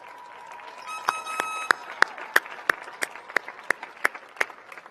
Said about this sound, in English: Your family, friends, and fellow students join me in applauding your success.